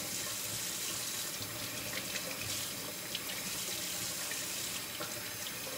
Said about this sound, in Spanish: voy a lavar la verdura